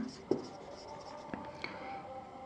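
A pen scratches across paper during a class 12 probability math lesson, soft close strokes with a few sharper taps, faint and quiet with low room tone behind.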